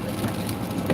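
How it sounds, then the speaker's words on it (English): Steady rain patters and hisses over a car driving on wet roads in Pennsylvania, a constant broadband wash with faint swells and no voices. "you can see it's raining"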